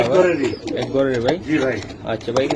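Pakistani teddy pigeons coo nearby at a pigeon farm, with several rolling, throaty calls in quick succession mixed with people talking.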